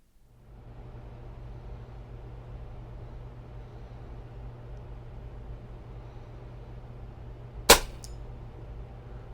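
A single sharp crack from a Diana XR200 .30 caliber PCP air rifle stands out near the end over a steady outdoor hum, loud and close, with no talking.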